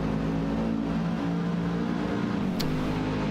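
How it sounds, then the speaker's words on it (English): A supercharged AMG V8 race car at a racing event gives a steady, dense exhaust burble with a constant low drone and supercharger whine, loud and continuous throughout, with a brief sharp click near the end. "I'm getting a very strong sound of V8 exhaust burble."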